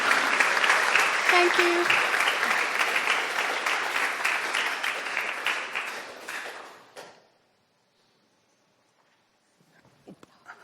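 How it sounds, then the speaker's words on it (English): Audience applause at a video game environment art panel: dense, sustained clapping for about seven seconds that trails off into near silence, with a brief spoken thanks and faint stray handling noises afterward. "another round of applause while Helder will get set up"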